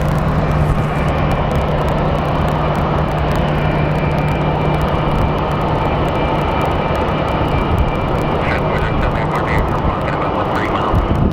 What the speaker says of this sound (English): Wow, that was a really quick departure.